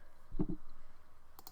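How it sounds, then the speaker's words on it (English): Keys tapped on a computer keyboard while a passcode is typed, a short close cluster of clicks followed by a couple of lighter taps. "You're going to type in your passcode."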